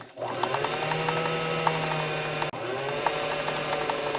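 A sewing machine runs a zigzag stitch on fabric for a face mask, a close, steady mechanical whir with a fast rhythmic clatter and one brief pause partway through.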